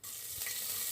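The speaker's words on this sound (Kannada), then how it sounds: "ಒಂದು ಪಾತ್ರೆಯಲ್ಲಿ ಎಣ್ಣೆ ಹಾಕಿ ಎಣ್ಣೆ ಕಾದ್ಮೇಲೆ ಸಾಸಿವೆ, ಜೀರಿಗೆ, ಬೆಳ್ಳುಳ್ಳಿ ಹಾಕಿ" Mustard seeds, cumin and garlic sizzle in hot oil in a pot while tempering for a vegetable sambar, giving a steady close hiss and crackle throughout, with no talk.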